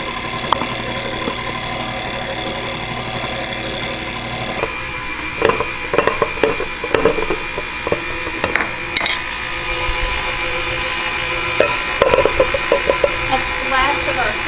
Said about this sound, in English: we're going to turn our mixer on and gradually incorporate the flour